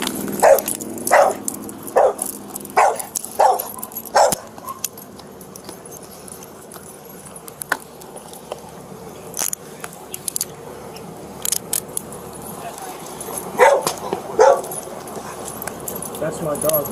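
During a police traffic stop, a dog barks and yips in sharp bursts near the start and again later, mixed with jangling keys and shouted talk from officers.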